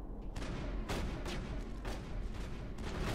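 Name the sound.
gunfire in video game Mass Effect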